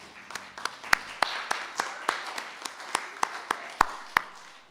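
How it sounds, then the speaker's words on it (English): Sparse, scattered claps from a small audience in a gathering hall, a dozen or so distinct sharp hand claps at irregular intervals, fairly quiet and thin rather than a full ovation. "let's give him a round of applause anyway"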